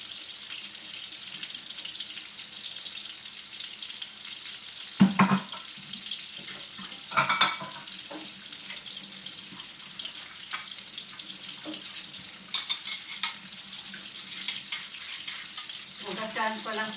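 Food sautés in cooking oil in a pan with a faint, steady sizzle. Occasional louder clatters and splashes of water break through.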